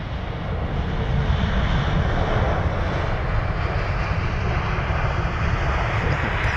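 A British Airways Airbus A320neo arriving from Dublin at London Heathrow, its engines a steady, dense roar that holds at a constant loud level for several seconds with no talk.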